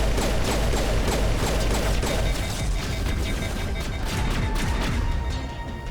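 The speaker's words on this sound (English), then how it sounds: "those little buggers are jumping up and shooting me from everywhere" Rapid bursts of enemy gunfire in the video game Mass Effect, a dense run of sharp metallic cracks and clattering mechanical shots that keeps going for several seconds with no talk over it.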